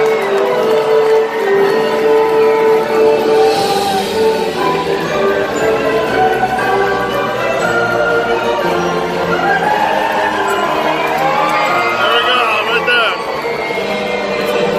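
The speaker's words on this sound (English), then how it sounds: "My lords, my ladies, raise a cheer for your Knights of the Realm!" A dinner-show audience at Medieval Times in Buena Park, California cheers for the knights, a dense, loud crowd roar lasting throughout, with an amplified announcer's voice and nearby talk mixed in.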